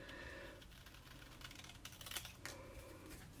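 Quiet, crisp snipping of scissors through paper, a quick run of short clicks and rustles with no voices.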